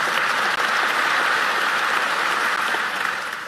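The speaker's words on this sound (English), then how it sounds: "Please give her a round of applause." Audience applause at a county State of the County address, a steady dense wash of clapping from a large crowd that holds for a few seconds before easing off.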